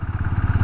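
A Bajaj Pulsar NS160 motorcycle engine pulling at low speed in fifth gear, with a loud close thrumming pulse and a steady rhythmic chug under a little mechanical clatter.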